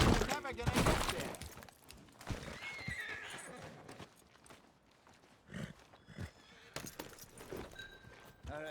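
A horse whinnies loudly at the start, followed by scattered hoof clops and shuffling at varying distances, from the video game Red Dead Redemption 2.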